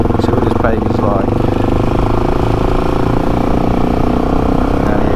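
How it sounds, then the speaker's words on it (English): A Suzuki DRZ400 dirt bike is ridden on a test ride, its single-cylinder engine droning steadily and close throughout, with a brief rising rev early on and constant wind rush. "Out for a test ride on Garth's DRZ400."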